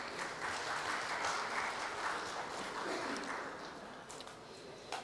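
Audience applause at a medical conference, a steady, faint wash of many hands clapping that thins gradually toward the end.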